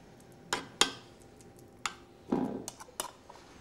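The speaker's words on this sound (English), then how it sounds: "So I've got 2 metal rings here. So I'll just spoon that on there." Food being spooned into metal plating rings for a smoked eel salad, a few faint, scattered metallic clinks and taps with a soft scrape in a quiet kitchen.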